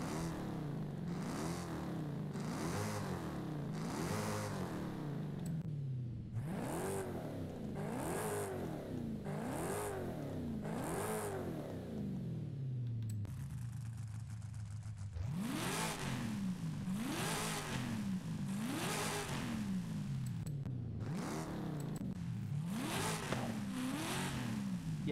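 A Dodge Dart with a 1000+ hp Hemi V8 revs in Forza Horizon 5, climbing and falling in repeated sweeps. The loud, rhythmic engine roars play alone, with a brief lull in the middle.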